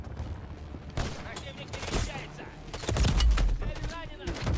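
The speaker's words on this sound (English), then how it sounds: "There's enemy fire." Gunfire in Call of Duty Modern Warfare 3: rapid bursts of shots and a sustained fusillade crackle close and loud, over a rumbling battlefield background.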